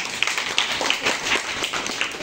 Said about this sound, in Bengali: থ্যাংক ইউ, একটা হাততালি দেওয়ার জন্য